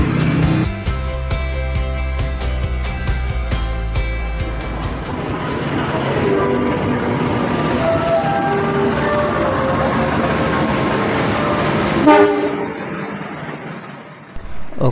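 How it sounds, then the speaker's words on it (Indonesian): The Tawang Jaya Premium passenger train rolls into an Indonesian station with a low rumble and rhythmic clatter, brakes squealing faintly, with station noise and distant voices around it. "ini dia kereta api Tawang Jaya Premiumnya sudah tiba"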